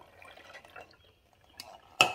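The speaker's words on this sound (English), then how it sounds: "So just put your water in." Water poured into the reservoir of a Chulux single-serve K-cup coffee maker, a soft trickle that ends in a sharp splash near the end.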